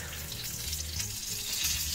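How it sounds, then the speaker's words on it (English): Food sizzles in the oven at 350 degrees, a soft, steady frying crackle close up with a low hum underneath and no talking. "that sizzle."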